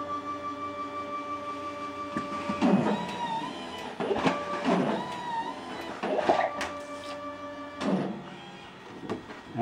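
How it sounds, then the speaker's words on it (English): An MBM GoCrease SEMI programmable creaser and perforator feeds a sheet of paper on its 18-inch side, with a steady mechanical hum and whine broken by several sharp clunks and sliding pushes as the sheet passes through. "I'm going to feed it on the 18-inch side, and now it knows the length, and I'm going to hit start"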